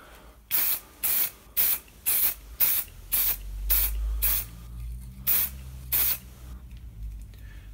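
Short bursts of an aerosol can lay a light coat of matte black paint onto a Sprinter van camera part: about ten sharp hissing sprays in an uneven rhythm, close by, with a low rumble underneath and no talking.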